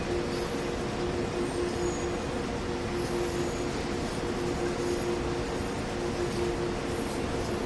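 Steady rumble of train locomotives in Train Sim World on the Main Spessart Bahn, a constant droning engine hum with a faint tonal whine, continuous and even throughout with no talking.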